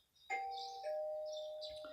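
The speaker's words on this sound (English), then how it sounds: "You hear the doorbell ringing. Someone seems to be at the door." A doorbell chimes in the video game Persona 4, a clear two-tone ding-dong that rings out and sustains for a moment, alone and fairly loud.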